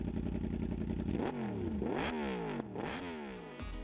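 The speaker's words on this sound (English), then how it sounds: "that is the sound of an inline 4 engine with a cross-plane crank" A Yamaha R1 motorcycle's inline-four engine with cross-plane crank revs repeatedly through its exhaust, each rising whine climbing in pitch and then dropping off in a rhythmic series of loud, close blips.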